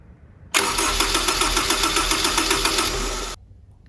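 Honda S2000 AP1 engine firing on its first start after a rebuild project: a loud cranking catch into a steady, slightly rough idle for about three seconds, then abruptly cut off.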